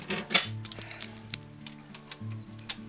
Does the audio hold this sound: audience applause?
no